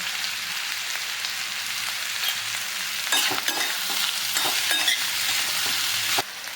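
Bitter gourd with turmeric frying and being stirred in a pan, a steady close sizzle with scraping stir strokes running through, louder in the middle and alone without talk.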